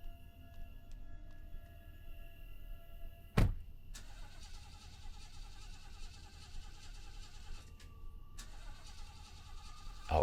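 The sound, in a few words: car engine failing to start in Fears to Fathom video game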